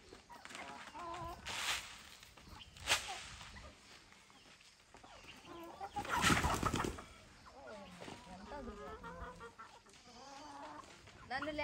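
Chickens, among them a rooster, cluck and call close by in repeated bursts, with a louder squawk near the middle and a person's voice occasionally mixed in.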